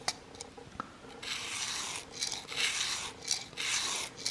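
A VPA Omega broadhead blade, held centered in a bias-cut guide, is stroked across a sharpening surface to remove a burr on the bevel side, giving repeated close raspy rubbing strokes in an even back-and-forth rhythm after a few light taps.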